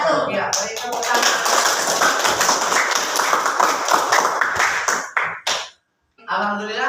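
A classroom group claps together in a dense burst of applause for about five seconds before it breaks off, with students' voices mixed in and a short spoken phrase after a brief silence.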